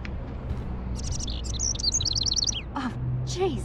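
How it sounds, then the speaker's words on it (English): Frightened bird in the Life is Strange video game chirps in quick, bright, high tweets and a few trilled calls, fairly close and continuous over a low background hum, with no talking. "Oh, Chase, can you help me get this bird out of here?"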